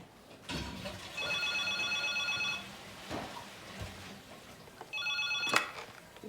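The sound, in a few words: telephone ringing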